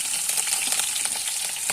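Steady hissing sizzle of onions and green chillies frying in hot oil, close up, with small crackles and pops throughout and no talking.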